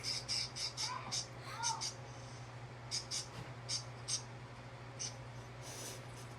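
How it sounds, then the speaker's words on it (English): Faint pet birds chirping and squawking in short repeated bursts at a distance, over a steady low electrical hum. "Sorry, my birds are loud."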